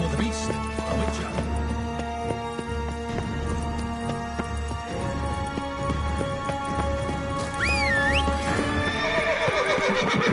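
Geralt's horse Roach in The Witcher 3 gallops with rhythmic clip-clopping hooves and gives a whinny, set among game music and ambient effects, with a voice speaking over it.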